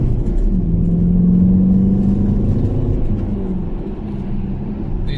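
A car on Uniroyal Rainsport 5 tyres accelerates along a wet road with a loud, steady engine drone and rising rumble from inside the cabin.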